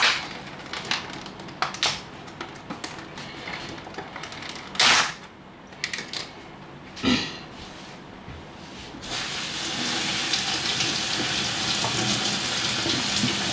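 Tap water runs over strawberries being washed at a sink, bursts of splashing and hissing spray that pause and return, then a steadier, stronger gush of running water toward the end.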